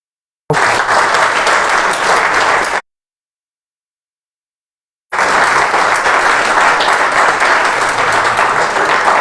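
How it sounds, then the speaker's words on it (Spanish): Loud, dense applause from a Sunday church congregation, filling two stretches separated by a sudden silent gap, with no talk over it. "eso se merece un gran aplauso"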